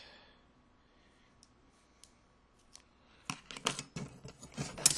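Several quick, crisp snipping cuts close by, bunched together in a rapid burst after a quiet stretch with a few faint clicks.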